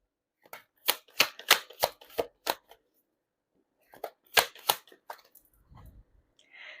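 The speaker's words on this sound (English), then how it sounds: "Let's pull up 3 cards from this archetype deck." A tarot archetype deck is shuffled and cards are drawn, giving crisp, close riffling snaps in two bursts separated by a short pause, then softer handling at the end.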